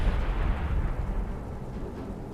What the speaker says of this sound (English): We do see the howitzer shooting again at my ally.